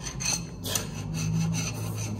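Carbide scrapers scrape old gasket material off a metal engine surface in a garage, a steady close rasping rub with a few stronger strokes and no speech.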